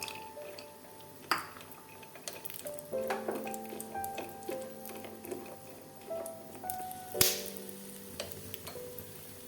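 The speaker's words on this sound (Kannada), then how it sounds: "ಸ್ವಲ್ಪ ತುಪ್ಪ ಹಾಕಿ ಬಾಣಲಿಗೆ ಗೋಡಂಬಿ ದ್ರಾಕ್ಷಿ ಹಾಕೋಣ." Cashews and raisins frying in ghee in a pan, with a steady soft sizzle under repeated clinks and scrapes of a metal spoon against the pan, one louder clatter near the end.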